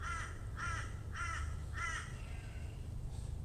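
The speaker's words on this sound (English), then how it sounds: "The birds are chatty today" Several crows caw outdoors in four evenly spaced bursts of harsh calls, moderately distant, over a steady low rumble of background noise.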